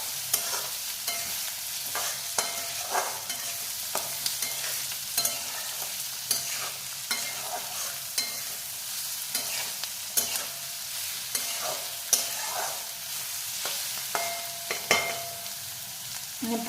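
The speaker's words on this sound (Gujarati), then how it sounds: "तो हवे आपणे प्याज नाखी दईशुं। एने आपणे हलावी दईशुं" Onions frying in a pan for an aloo sandwich, stirred with a spoon: steady sizzle with repeated scraping strokes throughout, fairly faint and alone.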